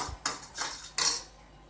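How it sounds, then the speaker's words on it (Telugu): A spoon clinks against a bowl while bread omelette ingredients are mixed with milk: three sharp, separate metallic taps close by, each ringing briefly before fading, with no voices. "పాలు వేసుకొని ఇవన్నీ బాగా కలుపుకుంటున్నాను"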